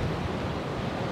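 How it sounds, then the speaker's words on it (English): Ocean surf roughly six to seven feet high crashes steadily onto a beach at high tide ahead of a tropical storm, a dense, continuous roar mixed with wind buffeting the microphone. "Look at those waves crashing in about 6 feet, 7 feet high."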